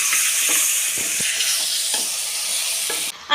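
Bone-in chicken pieces are stirred in a hot pan for a stew, a steady sizzle with soft scraping strokes of the spoon roughly every half second, close and loud, with no talking.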